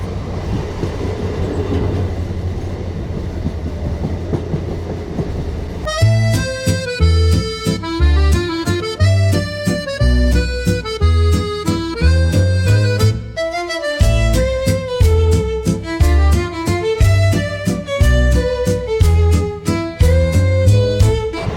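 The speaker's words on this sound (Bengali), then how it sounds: "ট্রেন এত সুন্দর হংকিং করছে" A train on the India–Nepal line rumbles steadily along, then a loud rhythmic clatter with tonal, horn-like notes takes over and continues for the rest of the clip.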